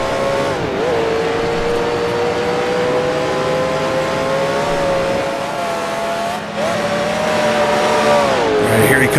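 A 1966 Can-Am race car engine in the Grand Prix Legends driving game drones loudly and continuously, its pitch dipping and rising through gear changes, with tire noise underneath.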